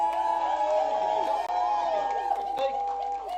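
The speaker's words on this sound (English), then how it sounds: "Big cheer for the Protest family." A crowd cheers and whoops for the Protest family at an outdoor gathering, a steady, dense roar of many voices with shouts rising out of it, sustained for a few seconds.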